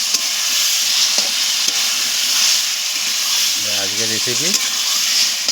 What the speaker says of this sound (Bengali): চিকেনটাকে কষাতে হবে।